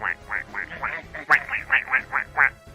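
A person's voice imitates a pig's oink but comes out like a duck's quack, a string of about a dozen rhythmic, nasal quacking calls, loud and close, with no other talk.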